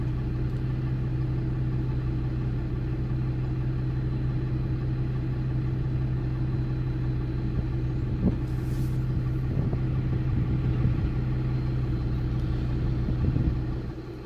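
An old Mack log loader truck engine runs at a steady low idle rumble for the whole stretch, moderately close, with faint clanks and knocks from the work around it and no talk.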